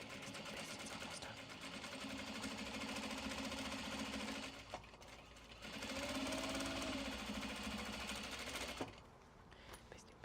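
A sewing machine basting webbing on a mini traveller sling runs in two long steady bursts of stitching, separated by a short pause, fairly close and moderately loud.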